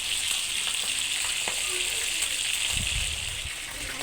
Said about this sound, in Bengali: আর এক পাশ ভেজে নিচ্ছে